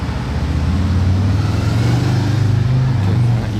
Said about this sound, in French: ah bah là il y a une escorte de police, ah mais c'est le fameux DBX 707